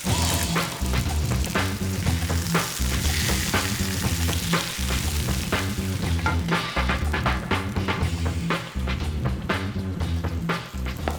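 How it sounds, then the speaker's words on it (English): Salmon fillets searing in a hot frying pan, a loud, steady sizzle and crackle that runs throughout with no talking. "1 minute on the first side and then 3 minutes on the other side just to get lovely and golden and seared"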